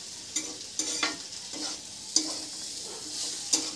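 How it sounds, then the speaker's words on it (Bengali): Bitter gourd and potato pieces fry in a pan, with a steady soft sizzle broken by several sharp scraping stirs of a spatula. "তো দেখছি এখানে উচ্ছে আলু ভাজা মোটামুটি হয়ে এসছে"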